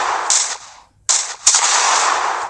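Sniper rifle shots in the video game Universal Sandbox, three sharp loud cracks with noisy decaying tails, the middle one after a brief silence.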